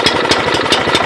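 Troy-Bilt Proline rototiller small engine sputtering and firing on choke, a loud, close, rough rhythmic chugging with uneven pulses throughout.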